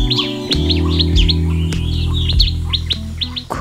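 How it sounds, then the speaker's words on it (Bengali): Songbirds, passerines singing at dawn in rural Bengal: repeated bright chirps and short whistled phrases from several birds, clear and close, over a steady low hum. "খুব ভোর থেকে নানা প্রজাতির পাখির কলকাকলিতে মুখর হয়ে ওঠে বাংলার আকাশ বাতাস।"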